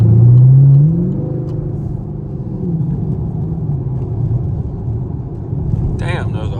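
Camaro SS engine in sport mode accelerating through traffic, a tone climbing at first, then a close, steady low rumble of the engine under way.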